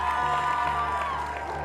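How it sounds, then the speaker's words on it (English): A gym crowd at a high school girls' basketball game claps and cheers for a senior player, a short burst of dense applause that stays loud the whole time. "Please give them a round of applause."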